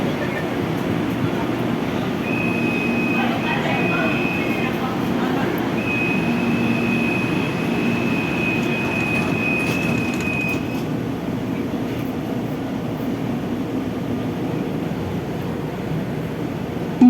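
A passenger train rolls along between stations with a steady, loud low rumble throughout, a thin high whine coming and going in the middle stretch, and faint talk or announcements now and then.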